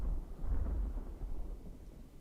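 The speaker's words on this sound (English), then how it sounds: "You just heard what sounded a little bit like thunder, but I'm pretty sure it represented the ships off in the distance firing a broadside" Distant broadside cannon fire from sailing warships in Ultimate Admiral: Age of Sail, a low, rolling thunder-like rumble that swells and slowly fades, heard alone without voices.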